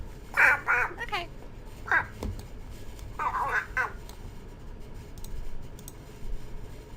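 Duck-like quacking in short bursts, several quick calls in clusters with pauses between, fairly close and clear, with no talking over it.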